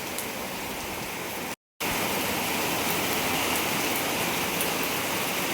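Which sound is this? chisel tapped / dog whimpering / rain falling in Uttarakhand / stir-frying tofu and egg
rain falling in Uttarakhand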